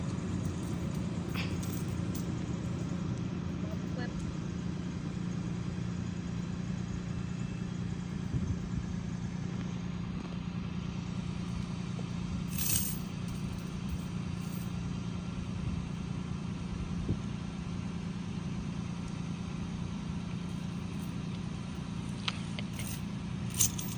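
A pickup truck engine idles steadily with a constant low hum, heard close and unchanging throughout, joined by a few faint clicks and rattles.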